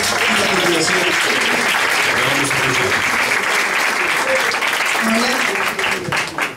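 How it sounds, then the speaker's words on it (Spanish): An audience at a political event for a progressive civic front applauds a speaker being introduced, a loud and dense burst of clapping that stays strong throughout and only starts to thin out at the very end. "Le aplauso"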